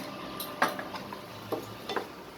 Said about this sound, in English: Stir it up this way nicely